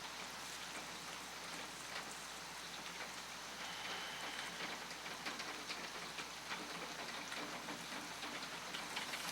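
Rain pummels a roof in a steady, even shower, a dense patter of countless drops that stays unbroken and fairly soft for about nine seconds with no one speaking.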